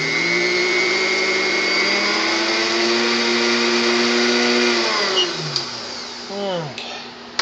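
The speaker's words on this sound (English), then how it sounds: "You want to keep your beaters inside your pan," Electric mixer beaters whipping cheesecake batter in a pan, a loud, steady motor whine that slows and winds down near the end.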